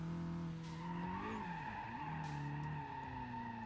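A Nissan GTR drifting in BeamNG Drive on brand new drift tires, its tires squealing in long wavering tones over the steady drone of the engine.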